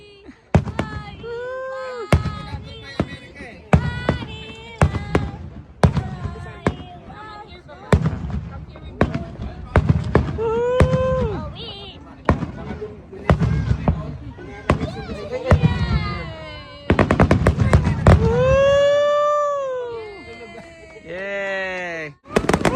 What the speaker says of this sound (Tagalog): Kuya Bern, yan na ba yung paputok na pinano mo?